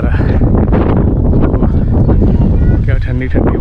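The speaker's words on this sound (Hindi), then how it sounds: "क्या ठंडी ठंडी हवा चल रही है" Cold wind gusts across the Dalai Hills hilltop in Mussoorie, a loud continuous roar buffeting the microphone, with voices faintly mixed in.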